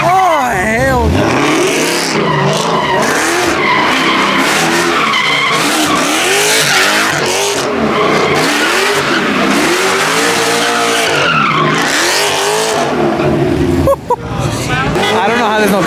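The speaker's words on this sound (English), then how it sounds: "Like, everyone's doing donuts. There's people over there, people over here. Someone's doing a burnout over there." BMWs doing donuts and burnouts at a car meet takeover, with loud sustained tire squeals rising and falling in long sweeping waves over engine roar. Crowd chatter runs underneath throughout.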